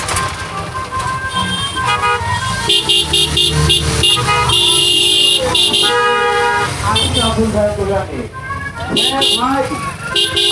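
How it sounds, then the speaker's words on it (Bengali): Road traffic is jammed during the Eid holiday in rural Bangladesh, with car and bus horns honking repeatedly and loudly, overlapping in long and short blasts over engine rumble while people talk. "দেখেন প্রচুর পরিমাণ জ্যাম।"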